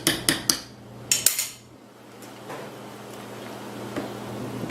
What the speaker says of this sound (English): So I'm just going to stir it up a bit.